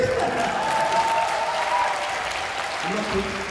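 A concert audience claps continuously in a culture and arts hall between songs of a live band's 2019 show, a full steady wash of applause with a faint tone and brief voices underneath.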